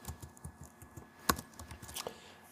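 Quick, light keystrokes tap on a computer keyboard in an uneven rhythm, with one sharper clack near the middle, close and fairly quiet with no talking.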